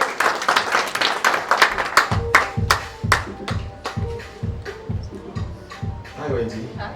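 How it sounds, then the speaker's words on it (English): Applause at an awards ceremony, with distinct individual hand claps heard close, accompanied by rhythmic thumping beats in the background, resembling music, while a voice speaks during the clip. "A big hand of applause for Wendy."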